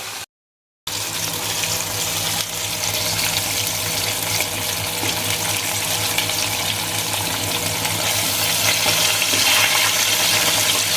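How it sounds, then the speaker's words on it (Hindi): Chicken drumsticks sizzle in hot oil during a second fry for Korean fried chicken, a steady, dense crackling hiss that holds unbroken and close for the whole stretch after a brief silent gap at the start. "अब इनको तकरीबन 3 से 4 मिनट हम दोबारा फ्राई करेंगे।"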